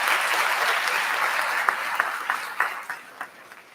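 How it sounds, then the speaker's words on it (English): An audience applauds graduates' families at a middle college graduation ceremony, with steady, moderately distant clapping that thins out into a few louder individual claps near the end. "So please give them a round of applause."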